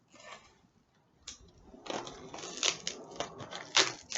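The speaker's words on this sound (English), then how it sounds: "Trying to get the scissors in there and it was not working out." Scissors snip and crunch into a sturdy subscription box package, a quiet run of sharp clicks and cuts close by, growing busier toward the end.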